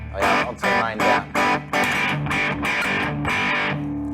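An electric guitar plays through a Wren and Cuff fuzz distortion pedal, giving a loud, raunchy, saturated tone in rhythmic strummed bursts that settle into sustained chords, heard alone without talking.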